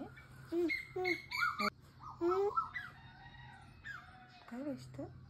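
Birds call outdoors in the morning, a series of chirping and rising whistled notes in short bursts over a faint low hum, moderately close but quiet.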